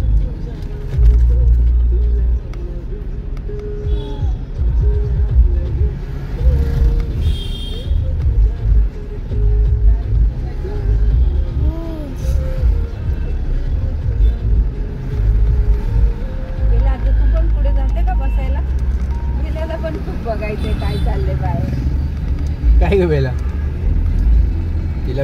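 Vehicle in motion carrying passengers, a steady low engine and road rumble running throughout with people talking and calling out over it.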